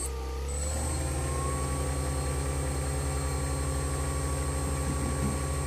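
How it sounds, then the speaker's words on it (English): An R-7CX engine runs at 75% power on a test stand, spooling up in the first half-second into a loud, steady roar with a sustained high whine and strong low pulsing throughout. "Standby engine run test number 7, post balancing in 3"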